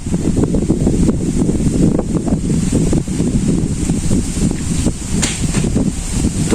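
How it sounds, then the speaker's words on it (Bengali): Strong wind roars and buffets the microphone in continuous gusts, a loud rumbling rush with no voices. "প্রচুর বাতাস আসছে"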